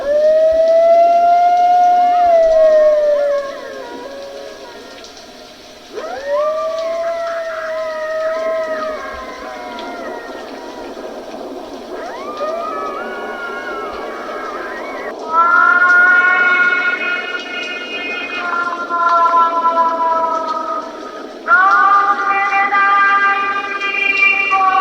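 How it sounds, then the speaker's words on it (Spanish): Long, wavering howls that rise and fall in drawn-out eerie wails, repeated several times with brief pauses, loud and haunting. "aquel terrible alarido o quejido, que parecía pertenecer al aullido lastimero de algún animal"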